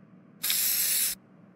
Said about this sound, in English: It is now time to spray perfume straight at your freaking eyes.